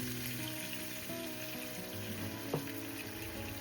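Hilsa fish pieces sizzle in a pan over medium-low heat, a continuous dense frying hiss throughout with a faint steady hum and one small clink partway through.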